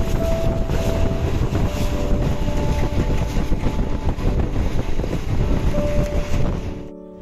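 A passenger train running near Siliguri, heard from on board: a loud, continuous rumble and rattle of wheels and carriages with wind rush, dropping away abruptly at the end.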